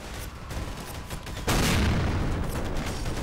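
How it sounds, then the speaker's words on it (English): A bazooka-style launcher fires in Garry's Mod, a loud boom at the midpoint opening into a sustained roaring blast, preceded by scattered softer thuds and impacts. "So basically it's a bazooka launcher thing."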